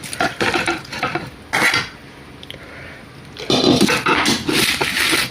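Pots and utensils clatter as jackfruit puzhukku is stirred in a cooking pot with hot oil poured in, giving bursts of scraping and clinking with a quieter pause in between, near and fairly loud, with no talk.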